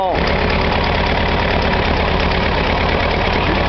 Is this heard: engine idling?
yes